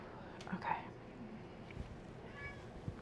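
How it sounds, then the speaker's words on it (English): A cat gives a soft, faint meow in a quiet room, with low murmured speech nearby. "Yes, Kitty. Yes, I hear you."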